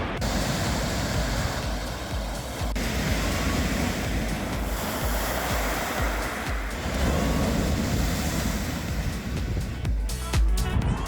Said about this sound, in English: Who would have thought there would be a beach an hour from London?